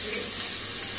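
Onion frying in a pan for fried rice produces a brief, even, hissing sizzle that stays steady and moderately quiet throughout.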